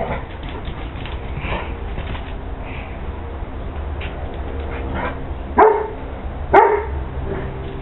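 A dog barks twice in quick succession near the end, sharp and close, over a steady low background hum with no talk during the barks.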